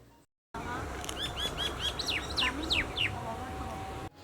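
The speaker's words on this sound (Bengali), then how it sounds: "চলো এবার ব্যাকগ্রাউন্ডের মিউজিকটা অফ করে একটু পাখির ডাক শোনা যাক।" Wild birds call in a village field where herons are sought, with a run of bright, clear, rising chirps close by, repeated about eight times over a steady outdoor hum, after a brief silence.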